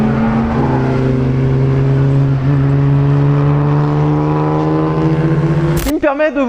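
A Jaguar E-Type sports car engine holds a steady, loud droning hum for several seconds with a slight rising pitch. It cuts off abruptly as a voice starts speaking.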